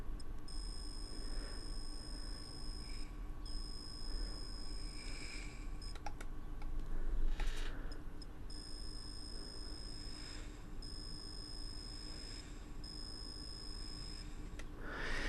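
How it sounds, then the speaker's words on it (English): A temperature-control vape mod beeps repeatedly while firing in a steady pulsing rhythm, short high tones over a constant low hum, fairly close and moderately loud. "while it's running in temperature mode, it has a heartbeat. Just keeps beeping."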